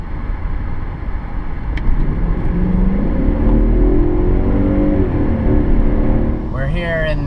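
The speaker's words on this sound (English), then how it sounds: "We're here in the 7 Series native habitat out on the wide open freeway." 2001 BMW 740iL cruising on a freeway, a loud steady road and engine rumble with rising and falling tones, heard from inside the car.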